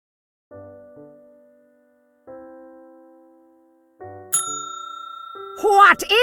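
A bell in the video game Nine Noir Lives rings three times in clear, slowly decaying dings spaced apart, followed by a brighter louder ring and a voice starting to speak.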